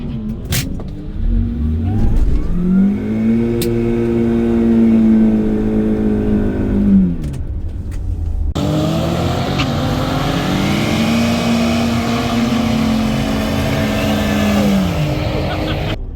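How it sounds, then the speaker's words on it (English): A Mini car doing a burnout at a drag strip: the small engine revs hard in two long, sustained pulls with a rising then held whine, loud and close, with a brief lull between them. "Hey, it does a burnout."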